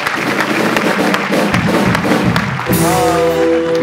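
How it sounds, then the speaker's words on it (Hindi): A studio audience at a comedy show claps in a dense, sustained burst that runs for a few seconds before giving way to a musical sting. "जोरदार तालियां"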